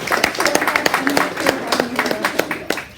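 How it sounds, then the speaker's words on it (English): A small audience claps in scattered, uneven bursts at a business talk, individual hand claps distinct and close, tapering off within a few seconds, with a voice briefly heard. "Everybody, give Marla a round of applause."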